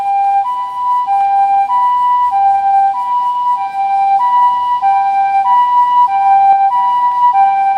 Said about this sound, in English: Probably hear the ambulance too.